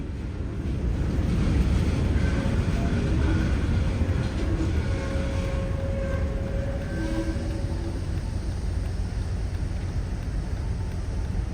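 A freight train rumbles past steadily, loud and close, with a continuous low roar and faint squealing tones from the wheels. No one speaks.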